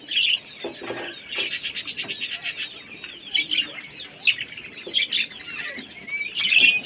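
King quail in a farm setting call out with high, chirping clucks and trilling notes, one busy burst then scattered calls close by, without talk.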